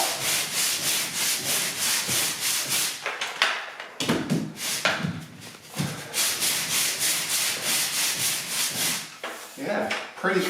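An OX Pro Series pole sander sands bonding filler on a wall with long steady back-and-forth rasping strokes, loud and close, broken by a few brief pauses.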